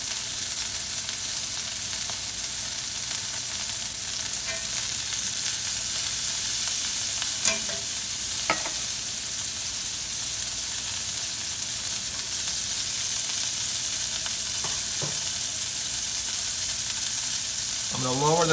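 Smash burger patty frying in a cast iron pan on a stovetop, a loud, even, unbroken sizzle held for a long stretch with a few faint clicks, no speech.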